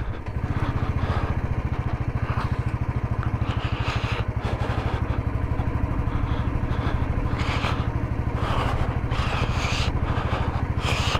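A Royal Enfield motorcycle rides a snowy, icy mountain road in winter Spiti near Chicham Bridge, its engine a close, steady thumping drone that runs unbroken beneath faint higher clatter and wind.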